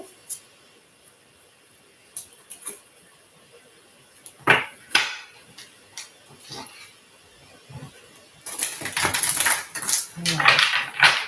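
Tarot cards being shuffled by hand, with sparse soft taps and flicks building into a denser burst of crisp riffling and card slaps near the end, close and fairly quiet.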